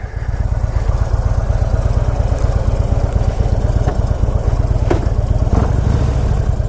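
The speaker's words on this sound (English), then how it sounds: "2015 Harley Davidson Switchback. And these are pretty cool bikes. Let's take it for a spin." A 2015 Harley-Davidson Switchback motorcycle engine runs steadily nearby with a loud, deep, even rumble, without speech.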